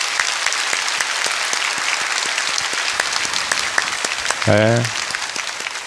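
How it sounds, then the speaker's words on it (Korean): A church congregation applauds in encouragement for those who serve, a dense, continuous round of clapping with distinct individual claps, while someone speaks a short word near the end. "우리 격려의 박수 한번 할까요?"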